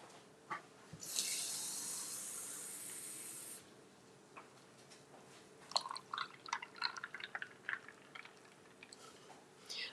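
Tap water rushes into a container in a home kitchen for about two and a half seconds, a close, steady hiss, followed by scattered clinks and small handling noises.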